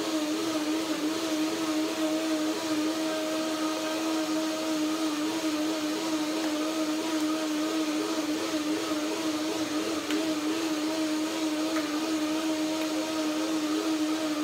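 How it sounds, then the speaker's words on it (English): A blender whirs steadily, grinding cashews, dates, banana and lemon with a little water into a cashew cream, its motor humming at an even, loud pitch throughout with no talk. "A little bit of water to get the blender going"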